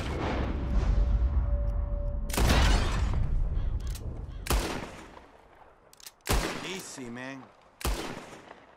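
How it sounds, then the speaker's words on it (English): Gunshots fire at bottles in a Red Dead Redemption 2 shooting contest, several sharp loud cracks spaced a second or two apart, with someone briefly speaking between shots. "Whoever shoots more of these bottles wins."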